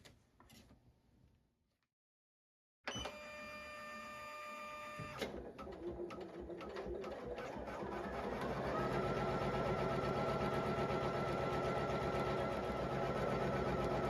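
A Poolin EOC06 embroidery machine stitches an applique tack-down on fabric. A short beep pattern comes after a brief silence, then the needle mechanism starts a steady rapid whirring hum that builds slightly louder and keeps running.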